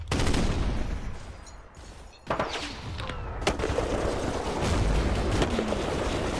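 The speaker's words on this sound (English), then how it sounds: "Hit by mortars." Mortar fire in the Panzer Campaigns Kiev '43 wargame: a loud, continuous barrage of booming blasts and rattling gunfire, with sharper explosive hits standing out partway through and no talking.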